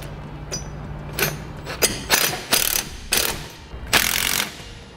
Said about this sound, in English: Then tighten them down evenly, working back and forth using a 9/16 socket.